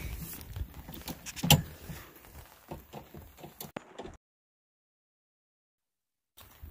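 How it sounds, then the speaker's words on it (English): Rain patters steadily on a tarp stretched over a sailboat anchored for the night at Sand Island in the Apostle Islands on Lake Superior, with scattered taps and a few sharper knocks before the sound cuts out. "But it's raining, so that's why the tarp."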